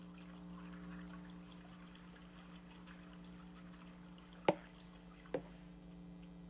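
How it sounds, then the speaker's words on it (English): Two sharp water drips land a second apart amid a quiet, humming ambience in the indoor puzzle game Partum Artifex, clear but soft against a steady low drone. "I can hear water."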